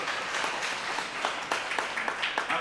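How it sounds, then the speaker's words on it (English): Applause from the audience at a Republican county meet-the-candidates event, a steady dense clapping from a modest crowd with a few sharper individual claps standing out, sustained throughout at moderate loudness. "You can applaud there."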